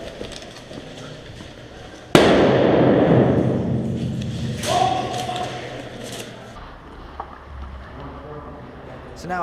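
An airsoft grenade goes off outdoors during a night-time milsim game: one sudden loud bang that tails off into a hissing rumble over several seconds, with voices nearby.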